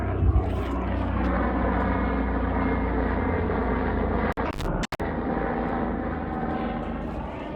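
A helicopter drones overhead in the Aravalli Hills near Gurugram, a dense, rumbling engine roar that holds steady throughout, cut by a couple of brief dropouts near the end.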